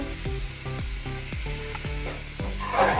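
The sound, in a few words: stirring ground almonds, sugar and khoa in a kadhai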